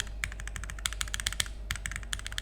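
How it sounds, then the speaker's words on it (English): Rapid mechanical keyboard presses on the left and right control keys of an Alas keyboard by RME.Studio, crisp clicky taps in an uneven stream with brief pauses, close up and with no talking. "The left control sounds higher pitched compared to the right control."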